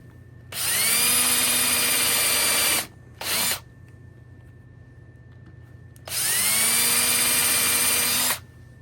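A power drill fitted with a centering bit bores small screw holes in scrap wood, sounding as two sustained whining runs of a few seconds each, separated by a short burst, loud and close, with no voices.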